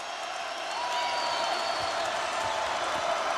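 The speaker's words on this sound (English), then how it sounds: "the crowd is coming alive again" A basketball arena crowd at a Salukis versus Panthers game swells into a steady roar of cheering, broad and distant, with a commentator's voice running underneath.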